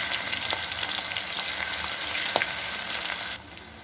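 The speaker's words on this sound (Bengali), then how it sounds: "এখন দেবো আমি রসুন থেতো করাটা" Crushed garlic and green chilies frying in a pan while being stirred, a loud, continuous sizzle with occasional stirring knocks, easing off slightly near the end.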